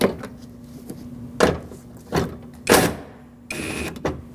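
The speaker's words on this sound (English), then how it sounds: "let's unplug the window motor" Plastic clicks and clunks of a window motor electrical connector being unplugged inside the door of a 2006-2014 Lexus IS250 during a front window regulator job, several short close bursts with quiet gaps between them.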